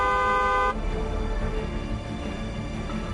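A car horn blares loudly and steadily for under a second, then cuts to a rumbling engine and traffic noise that continues to the end.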